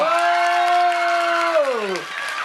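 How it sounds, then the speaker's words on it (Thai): Crowd applause and cheering at a live outdoor concert in Surin rises under a singer's long held final note, which bends down and fades as the clapping carries on. "ขอเสียงปรบมือดังๆหน่อย"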